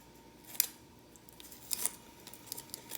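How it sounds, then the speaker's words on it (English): Layers of papery onion skin are peeled and torn away by hand, making a few faint, sharp crackles and crinkles spaced apart in a quiet room. "Now you want to peel a couple of the layers."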